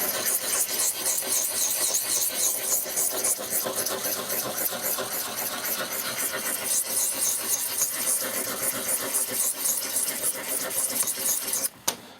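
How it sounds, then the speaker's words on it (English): A blade is scrubbed back and forth on a sharpening stone, a close, continuous rasping rub with a rapid, even rhythm, ending in a brief stop near the close. "putting the blade to the angle that I want it to, and then scrubbing the blade"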